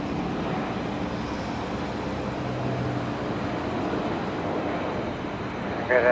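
A Jetstar airliner on the runway at Brisbane Airport at twilight, a steady distant jet-engine roar holding level throughout, with a faint radio voice at the very end.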